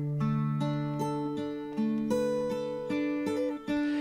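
Two separate guitar performances doubled together in a song mix, held chords shifting in a steady rhythm, smooth and moderately quiet, with no speech.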